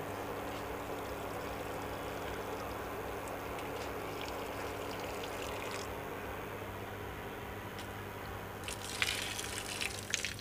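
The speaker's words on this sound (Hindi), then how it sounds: "ये पूरा पानी गिर गया ऊपर का" Water gushes and pours steadily off a hot iron tawa griddle with a candle on it, a continuous rushing splash with a brief sharper sizzling burst near the end.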